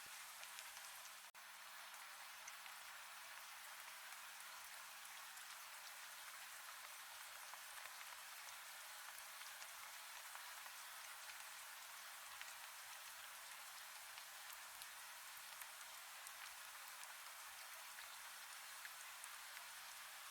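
Steady, heavy rain falls without pause over a muddy WWI trench, a dense even hiss of drops that stays constant throughout, with no voices.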